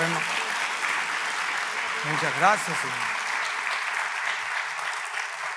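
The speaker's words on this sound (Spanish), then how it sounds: "Un aplauso fuerte, papá." Steady, loud applause fills a church during an ordination service for pastoral assistants, continuing evenly while a voice briefly speaks over it.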